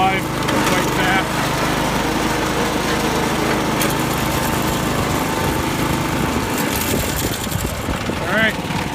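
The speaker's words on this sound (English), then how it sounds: "JX75, beautiful lawnmower." A John Deere JX75 lawn mower engine runs steadily and loud throughout, a continuous droning hum with rattling mechanical noise, and faint voices heard briefly.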